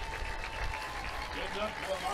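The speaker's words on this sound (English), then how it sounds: "The crowd's starting to get into it" A crowd in the stands at a high school football game between Lake Travis and Los Fresnos rumbles with steady cheering and applause for about two seconds, with a commentator's voice running underneath.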